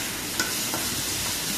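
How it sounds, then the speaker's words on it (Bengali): Onions with green chilies frying in a pan while being stirred until browned, a loud dense continuous sizzle with a faint scrape of the spatula, no voices. "পেঁয়াজগুলো ভালো করে নাড়াচাড়া দিয়ে পেঁয়াজগুলো ব্রাউন করে নেব"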